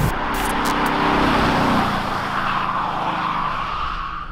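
A 2021 Audi S6 diesel engine with its sound generator gives a loud, close rumbling roar that rises and then gradually fades, with a broadband rushing quality.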